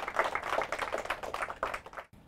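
An audience at a quiz program gives a short, lively round of clapping for a child poet contestant. The applause is fairly close and fades out after about two seconds.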